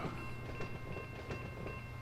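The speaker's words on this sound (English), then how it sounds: "we're going to back this train up" Train moving in reverse in the Run 8 train simulator game, a steady rumbling rolling noise with faint clanking and a constant mechanical hum throughout, no voices.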